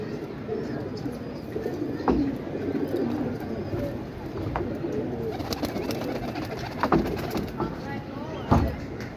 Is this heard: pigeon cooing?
yes